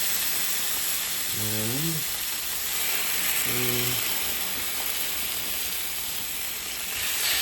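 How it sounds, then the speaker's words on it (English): Salmon fillet laid skin-side down in a hot cast iron skillet, giving a steady broadband sizzle throughout, with a voice speaking briefly over it. "Got my cast iron skillet nice and hot here, and I'm going to put the salmon in there"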